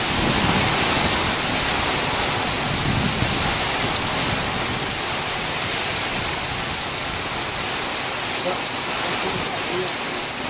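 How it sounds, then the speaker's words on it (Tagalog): Steady, dense broadband hiss of heavy rain pouring down continuously in Masbate, Philippines, loud and close, with no voices. "Malakas ang ulan dito sa Masbate."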